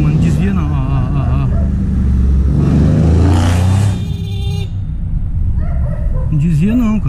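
A car with a loud exhaust revs past on a street, its rising engine roar swelling midway and then fading, heard beneath a man's steady, close talk.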